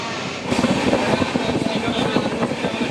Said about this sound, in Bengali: চলুন এখন ট্রেনটা ছেড়েছে এখনও স্পিডটা নেয়নি আস্তে আস্তে যাচ্ছে